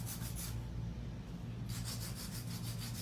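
A 100 grit hand file rubs rapidly back and forth over an acrylic nail, a close, soft, rhythmic rasping that pauses briefly and then resumes at a steady pace.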